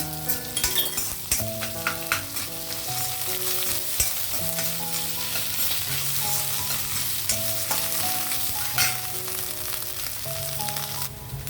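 Onions fry in a pan with cumin and ginger garlic paste for mint rice, a steady sizzle with scraping stirs throughout, while background music plays over the cooking.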